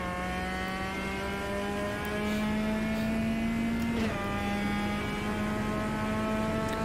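A Copa de Marcas race car engine at the Red Bull Ring in the game Automobilista VR drones steadily with rising harmonic pitch, a brief dip as a gear shifts, then continues at a sustained high rev under game ambience.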